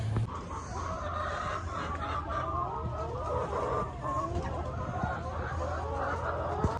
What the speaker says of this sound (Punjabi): ਇੱਥੋਂ ਮੁਰਗੀਆਂ ਲੈ ਕੇ ਆਪਣੇ ਮਿੱਤਰ ਪ੍ਰਗਟ ਨੂੰ ਦੇਣੀਆਂ